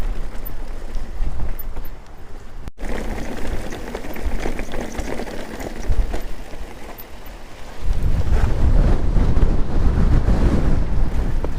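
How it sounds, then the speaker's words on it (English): Strong wind buffets the microphone in loud, rushing gusts, rising to a heavier roar toward the end. "Blowing a right gale up round here today. I can't believe how windy it is."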